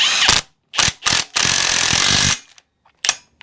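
A ratchet tightens the yoke nut on a Dana axle during a Willys Jeep rear axle rebuild: loud, close clicking bursts, a few short ones, then one long run of about a second and a last quick burst.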